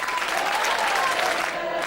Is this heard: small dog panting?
no